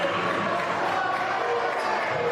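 A crowd at a high school boys basketball playoff game roars and cheers after a turnover, a dense, steady wash of noise that holds throughout.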